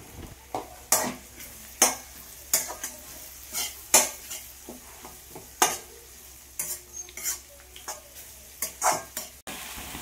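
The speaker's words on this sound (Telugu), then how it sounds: "ఫైనల్గా కొద్దిగా కరివేపాకు రెబ్బలు కూడా వేసుకొని బాగా వేయించుకోవాలి." Curry leaves and spices sizzle and fry in a pan while a metal spoon stirs and scrapes against it in irregular sharp clacks, close and clear over a soft continuous sizzle.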